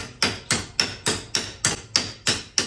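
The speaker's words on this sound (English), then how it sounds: "See my hammer moving?" Hammer tapping on sticky brake slide hardware, eight sharp metallic strikes in a steady rhythm, close and loud with short ringing decays.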